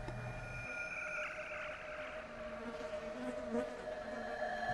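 A female Anopheles mosquito produces a continuous thin, high-pitched whine, faint and steady for several seconds against a quiet background hiss.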